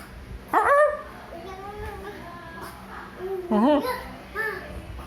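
A baby imitates a dog barking, giving a couple of short, sharp vocal yelps with babbling in between, close and fairly loud; an adult talks quietly in the background.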